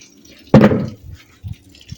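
Water trickles and drips in a short burst of splashing, followed by a few faint, isolated drops nearby.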